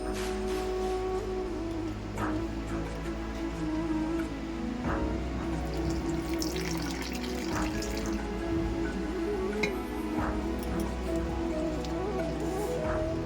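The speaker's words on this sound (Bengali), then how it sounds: "এবার এটাকে মিক্স করব জল দেবো" Water splashing and stirring as palm malpua batter is mixed in a bowl, a continuous close wet churning with soft drips and sloshes running steadily for about thirteen seconds.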